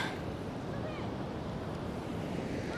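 Waves wash steadily onto the beach at Tanah Barak in Bali, heard as a continuous, fairly loud surf roar mixed with wind noise on the microphone, with no distinct breaks.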